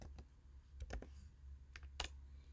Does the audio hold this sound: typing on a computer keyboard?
yes